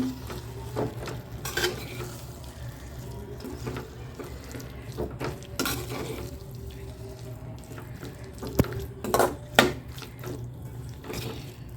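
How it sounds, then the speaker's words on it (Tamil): Broccoli being sautéed in masala in a pan for a broccoli kurma, with close scraping and stirring clatter and sharp knocks of the spoon against the pan over a low steady hiss. "இந்த ப்ரொக்கோலியை போட்டுடலாம். அப்படியே வதக்கி விடுங்க. மசாலாவோட சேர்கிற மாதிரி அப்படியே வதக்கி விடுங்க."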